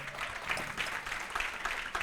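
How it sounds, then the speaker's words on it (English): Scattered applause from an audience honoring a speaker named Abigail at a youth forum session, thin and fairly quiet, with a few louder claps rising out of the patter across the two seconds. "give applause for Abigail"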